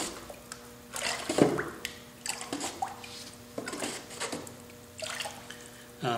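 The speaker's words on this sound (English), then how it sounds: "now I'm ready to pour in the copper red glaze" Copper red glaze poured over a wax-resisted ceramic bowl with chattered texture, giving close, soft splashing and dripping liquid sounds in several uneven bursts, with faint room tone between pours.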